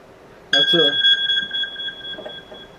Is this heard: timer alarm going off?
yes